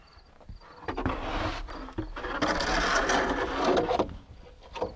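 A wooden drying rack for bread dough slides into an oven with a scraping, rumbling sound and a few knocks and clunks, close and continuous for several seconds.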